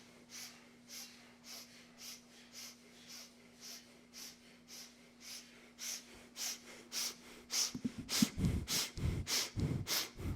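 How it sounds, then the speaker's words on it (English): Rapid rhythmic breath of fire during a kundalini yoga class, a quick run of sharp nasal exhalations that grow louder and faster toward the end, close and with no talking. "The rest of us will do this rapid breath"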